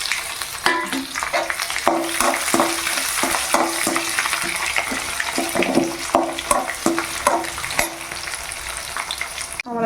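Garlic and curry leaves fry in oil in a pan for tamarind rice, a steady loud sizzle broken by repeated scraping strokes of a spoon stirring, close up with no voices.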